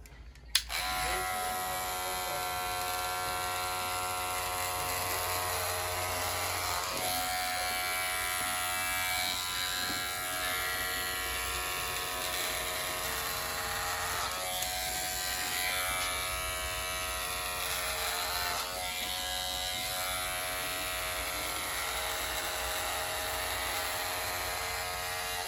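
An electric hair clipper marks out a high fade haircut, running as a steady, close, continuous buzz for the whole stretch with slight shifts in tone as it moves along the head; no one talks.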